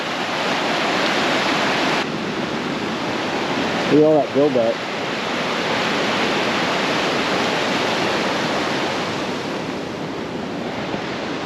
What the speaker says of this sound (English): there's still a bunch of water coming down from the hills, and it's gonna rise